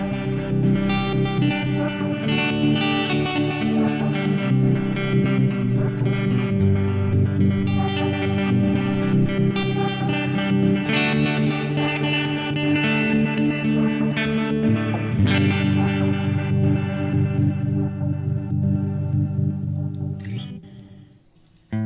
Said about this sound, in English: Press the play switch to start the sequencer and hear your effects transform.